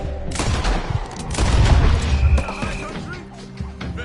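Gunfire in Red Dead Redemption 2 during a story fight, a cluster of booming shots and crashes layered over game sounds and background voices.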